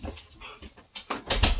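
A husky whimpers and yips in short, uneven bursts, close and fairly loud, growing stronger toward the end with no talking over it.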